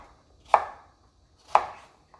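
Potatoes being cut into large pieces with a knife on a board: two sharp, close chops about a second apart, each with a short decay, then a faint tap in an otherwise quiet kitchen.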